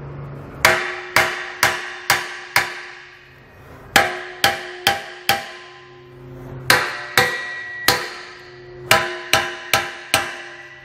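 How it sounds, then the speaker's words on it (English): Hammer blows beating in the frame corners to clear the bumper during a Draw-Tite Max-Frame trailer hitch install on a 2015 Honda Odyssey, sharp ringing metal strikes in quick bursts of four to five, close and loud with no talk. "take a hammer and beat in these four corners just a little bit"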